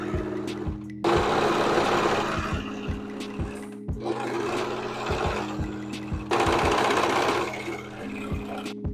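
Sewing machine stitching a seam on pajama shorts, three runs of fast rhythmic needle clatter separated by short pauses, loud and close with no talking.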